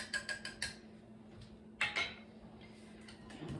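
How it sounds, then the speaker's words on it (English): A whisk beating wet ingredients for oatmeal banana cookies in a mixing bowl: quiet, quick rhythmic clinks and ticks in short bursts, close by, with no talk. "And we'll give that a whisk."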